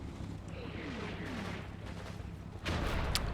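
A Sherman tank shell firing on a StuG in the Combat Mission video game: low rumbling battle ambience, then a heavy boom and blast near the end, loud and close.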